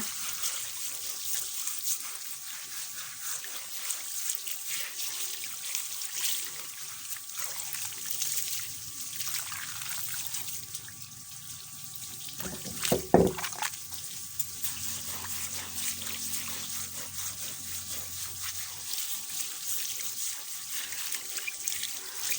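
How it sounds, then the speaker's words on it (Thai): Tap water runs steadily while a cutting board is rinsed clean, a close, continuous trickle with a brief splashing burst midway and no talking. "จากนั้นค่ะเราก็จะนำน้ำมาล้างทำความสะอาดแบบนี้อีกรอบหนึ่งนะคะ"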